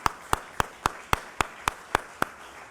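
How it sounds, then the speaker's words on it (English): Hand claps at a Juneteenth festival celebration in Times Square: about nine sharp, evenly spaced claps in a steady rhythm, fairly close and clear, with no voices over them. "How about a round of applause?"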